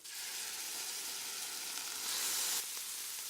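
Turkey pieces browning in a pan give a steady, fairly quiet hiss of frying that swells slightly near the end, close by and with no voices.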